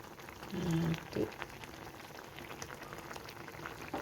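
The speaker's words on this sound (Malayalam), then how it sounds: "നല്ലോണം തിളക്കുന്നുണ്ട്" Quiet bubbling and soft popping of curry simmering in a pot, with a couple of louder burbles early on, close and low.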